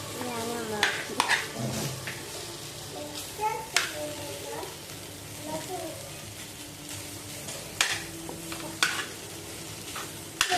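Onion mixture for a Kerala egg roast sautés in a pan over low heat, a soft continuous sizzle broken by intermittent stirring and utensil clinks, with a voice talking quietly now and then.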